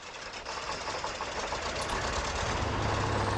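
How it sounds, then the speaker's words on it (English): Truck engine idling in the Spintires video game, a steady low rumbling chug that grows slightly louder toward the end, with no talk. "So if we go back to start engine,"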